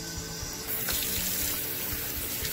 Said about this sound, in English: I'll turn my faucet on